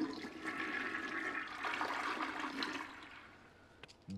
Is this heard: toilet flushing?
yes